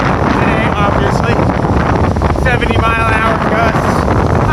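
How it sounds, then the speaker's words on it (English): Powerful gusts, reaching up to 70 miles an hour, batter a hiker on a forested Appalachian Trail ridge, roaring and buffeting loudly against the microphone in a continuous rumble, with a voice briefly audible beneath it. "it's supposed to be windy today, obviously."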